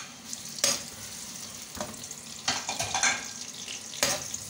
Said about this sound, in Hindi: पैन में ऑयल डाला था थोड़ा, उसमें हमने ये प्याज डाल दिए